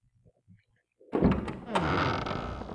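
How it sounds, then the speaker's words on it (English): A door in Resident Evil Zero opens with a heavy thunk after faint footsteps, then gives way to a sustained creaking, scraping swing that lingers in a reverberant room. "thankfully we can go into this door just here"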